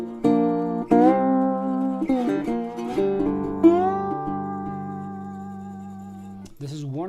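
Acoustic guitar played with a polished slide around 2 mm thick, gliding notes and chords with smooth pitch slides and sustained ringing tones, fairly close and alone.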